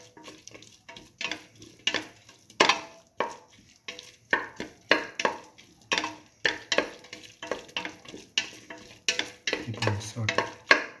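Mung bean, tomato and rice mixture stirred with salt in a pot, a steady run of close scraping and stirring strokes with light sizzle underneath and no talk.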